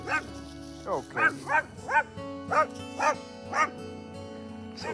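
Several small dogs bark in short repeated bursts, some yippy and whining, around another dog named Penny on an outdoor hike in Texas, with a low steady hum beneath.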